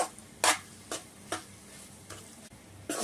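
Bread halwa with sweet khoa being stirred in a pan, the spoon scraping in a few distinct strokes spaced about half a second to a second apart over a faint, steady background.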